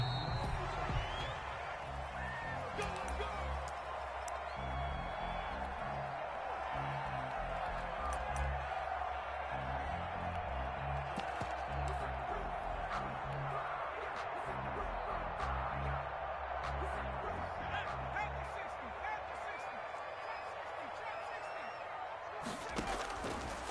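Stadium crowd noise from an American football video game, Giants versus Buccaneers: a steady roar of fans with scattered cheers and thumps, continuous throughout, with a commentator-style voice talking over it.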